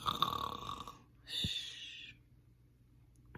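A person voicing a storybook dragon's snore: two drawn-out, nasal rasping snores, each about a second long, close and fairly quiet, separated by a short pause.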